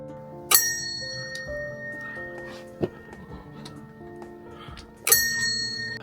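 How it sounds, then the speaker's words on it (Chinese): A bright prayer wheel bell rings twice, several seconds apart, one ring per turn, each strike ringing out over quiet background noise and faint voices, in Namche Bazaar, Nepal. "每转一圈铃铛会响一下。"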